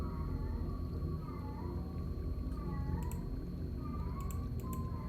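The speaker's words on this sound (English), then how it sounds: "My goodness, that cat is howling." A cat howls with long, wavering, drawn-out yowls that rise and fall in pitch, repeating a few times over a steady droning background hum and a few faint clicks.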